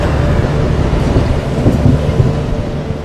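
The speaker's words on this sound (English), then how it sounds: "An approaching downpour threatens to grow into a lightning storm." Thunder from an approaching rainstorm rumbles low and continuously, heavy and loud, with a steady noisy wash over it for about three seconds and no speech.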